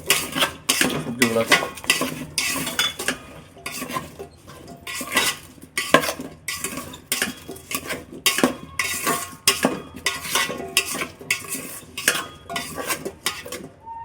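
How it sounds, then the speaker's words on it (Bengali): A metal spoon stirs vegetable khichuri in a pot after salt goes in, with loud, close, rapid scraping and clanking against the pot in uneven bursts and no speech. "লবণ অ্যাড করার পরে হালকা নাড়াচাড়া করবো"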